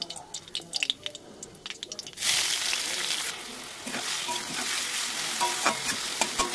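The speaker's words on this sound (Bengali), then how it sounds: "এবার আমি পেঁয়াজটা হালকা ভাজা ভাজা করে নিই।" Chopped onions fry in hot oil with whole cumin and dried chillies, a loud broadband sizzle bursting in after a few seconds of stirring and clattering, then holding steady with occasional scrapes of the spoon.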